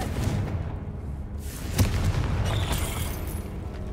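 One Confringo fire spell from Hogwarts Legacy goes off as a single muffled boom with a brief crackling burst, set against a dense, continuous game ambience.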